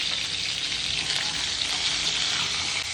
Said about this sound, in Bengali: পটলটা কিন্তু আমি হালকা করে ভেজে নিচ্ছি